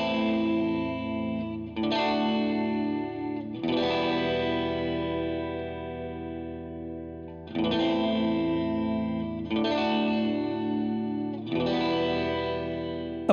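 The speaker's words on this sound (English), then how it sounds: "the lightly chorused reverb effect should add some subliminal animation to reverb tails" Sustained tones ring out through Logic Pro's SilverVerb lightly chorused reverb effect, with a gentle chorus-like shimmer and long reverb tails, swelling in several separate phrases with no voices.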